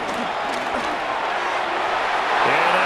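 Simulated stadium crowd from a Madden 26 NFL game on PS5, Lions vs. Ravens, a steady broad roar of cheering and applause throughout that swells slightly near the end, with a voice briefly heard over it.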